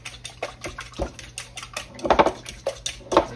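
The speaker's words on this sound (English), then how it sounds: "Because I want more eggs in here than buttermilk. Mix this up." Eggs and buttermilk are whisked in a bowl, giving quick irregular clinks and taps of utensil against the dish, close and brief without speech.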